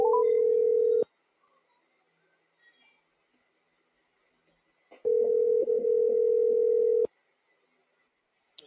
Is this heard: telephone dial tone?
yes